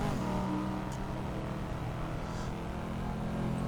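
A Corvette C5 Z06 engine in the Assetto Corsa racing game on the Nordschleife drones steadily at moderate volume, with a low rumbling tone and faint shifts in pitch during downshifts.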